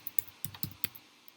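A computer keyboard is typed on in a short burst of a few quick, close key clicks with uneven spacing, fairly quiet and with no one speaking.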